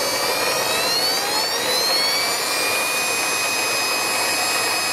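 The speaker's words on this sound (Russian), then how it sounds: "пила, в общем, очень тихая на самом деле" An ELMOS 209 compact band saw runs steadily with a high, thin whine and airy hiss, a constant mechanical drone with no voices.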